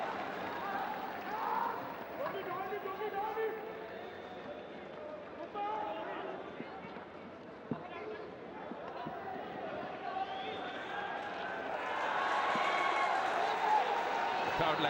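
Crowd at a men's junior world cup field hockey match between the Netherlands and India in India, a steady roar of spectators swelling louder near the end, under continuous commentary.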